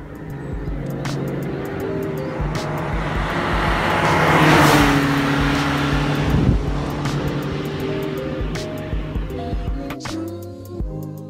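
Alfa Romeo GT 1600 Junior driving on the road, a steady engine drone with a gear change partway through, the engine swelling louder in the middle and settling back, heard up close throughout.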